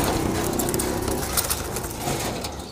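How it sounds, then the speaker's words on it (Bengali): Pigeons coo softly and continuously in a loft or rooftop setting where young pigeons are being released to fly, with a steady broadband background hiss and no clear talk. "তো গাইজ দেখতে পাচ্ছ একটা নাপ্তা কবুতর"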